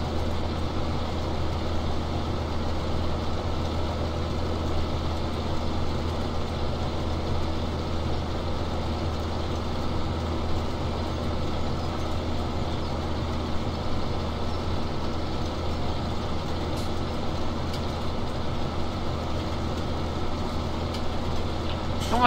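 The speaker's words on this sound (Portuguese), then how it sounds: "Esse aí é o nosso trator colhendo batata aí." A tractor harvesting potatoes in Farming Simulator 17 drones steadily and evenly throughout, a loud continuous engine rumble with no talk over it.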